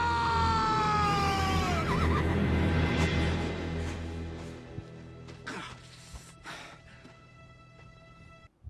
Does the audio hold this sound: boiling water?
no